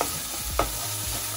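Sticky rice frying in a pan with sweet soy and chili soy sauce, a steady close sizzle with a few scraping stir strokes, no talking.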